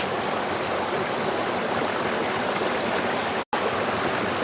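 A rushing mountain stream in a forest where porcini mushrooms are being gathered: a loud, steady, dense roar of water that fills the whole clip, with a momentary dropout near the end.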